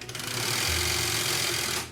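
An old family sewing machine used to stitch bags runs in a fast, continuous, close mechanical whir of rapid needle strokes for about two seconds, loud and alone.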